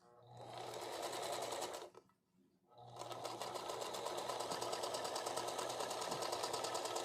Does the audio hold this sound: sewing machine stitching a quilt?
yes